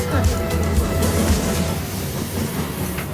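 Close, steady rumble of a passing freight train near Kamloops, Canada, with rhythmic clickety-clack of wheels on rails, loud and continuous throughout.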